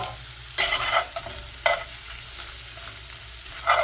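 BBQ shrimp being stirred and turned in a pan, with a steady soft sizzle broken by a few louder scraping bursts from the spoon, close and alone with no voices.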